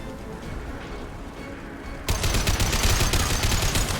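Rapid gunfire from a gun in Mass Effect 2 video game bursts in halfway through a quieter stretch of ambient noise, a loud dense stream of shots continuing to the end.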